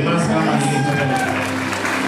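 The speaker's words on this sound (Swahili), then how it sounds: "Ongeza makofi tena. Increase our hands again." A church congregation at a worship service claps hands together in a continuous, loud wash, mixed with a prominent singing or speaking voice over the crowd.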